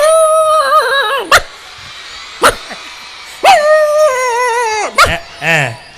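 A person imitates a rowdy street dog with long, drawn-out wavering howls broken by a few sharp, clipped barks, loud and close.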